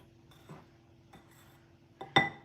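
A whisk tapping and clinking against a bowl after pumpkin pie spice is mixed into dry ingredients for pumpkin spice cookies, a few light knocks followed by a sharper final clink, close and alone in a quiet kitchen.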